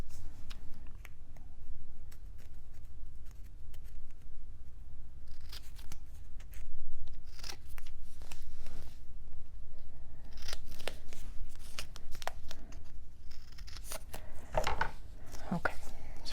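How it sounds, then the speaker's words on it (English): Scissors snip paper corners close up while trimming pieces for a mini album, with repeated crisp cuts and rustling paper through the passage and quiet talk in places. "well, let me trim my corners,"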